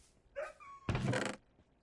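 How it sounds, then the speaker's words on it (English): Dogs in Minecraft Bedrock Edition, a soft whine followed by a short bark-like burst, quiet and brief with no talking. "I'm gonna get a couple of my dogs to stop sitting so that I can have them with me."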